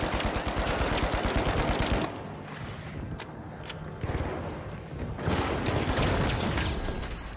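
Rapid automatic gunfire in the video game The Finals, dense fast bursts up close and loud, broken by short pauses and single shots before the rattling fire resumes.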